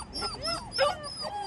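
Puppies for sale giving high yipping barks and whimpers, several quick overlapping calls at close range over light background noise.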